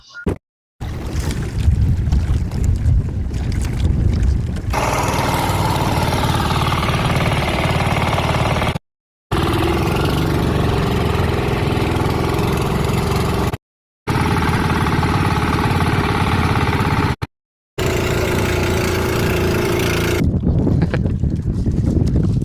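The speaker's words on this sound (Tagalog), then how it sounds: "gamit na gamit itong bangka na binigay dati ng ibang team" A motor runs loudly and steadily on a small, well-used fishing boat, with several abrupt cuts of silence between stretches of continuous engine noise.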